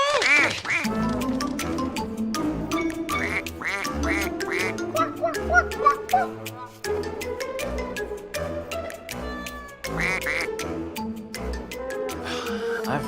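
A duck quacks in a mystery video game themed around a fowl murder, its calls bursting repeatedly over game music and brief talk.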